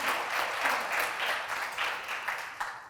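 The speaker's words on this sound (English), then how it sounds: "join with me in applauding Derek for his yeoman service to social security systems" Audience applause honoring actuary Derek Osborne at a Social Security Board stakeholder event, an even wash of many hands clapping, fairly soft and steady for a few seconds with no voices over it.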